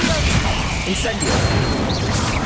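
A fire spell cast in the game Hogwarts Legacy gives a dense, continuous burst of crackling, whooshing magical noise, loud and steady for its full length with no talk over it.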